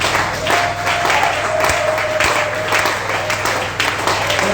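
A church congregation applauds, a dense, steady wash of clapping from many hands filling the room, with voices faintly mixed in underneath.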